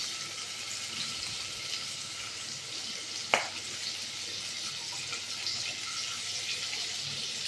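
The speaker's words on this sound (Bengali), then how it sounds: "এবার এর মধ্যে আমি ডিমগুলো একটু লবণ মাখিয়ে ভেজে নেব" Salted eggs fry in a pan of oil and ghee with a steady, moderate sizzling hiss that runs throughout, broken once by a single sharp clink near the middle.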